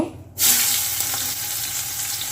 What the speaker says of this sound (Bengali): কড়া তেল দিয়ে দিয়েছি আগে পেঁয়াজ দেব